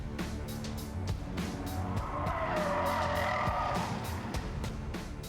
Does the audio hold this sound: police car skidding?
yes